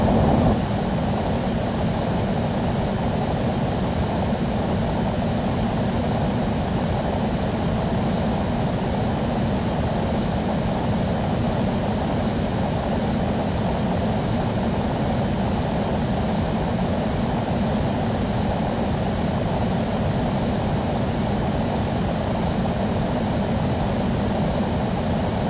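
A steady, loud aircraft engine drone from Microsoft Flight Simulator X, heard as the plane climbs to 50,000 feet at fast-forward, holding an even roar with a thin high whine and no voices throughout.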